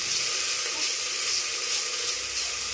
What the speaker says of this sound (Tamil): நம்மளோட டொமேட்டோஸை ஆட் பண்ணிக்கலாம். ஒரு மிக்ஸ் கொடுத்துக்கலாம்.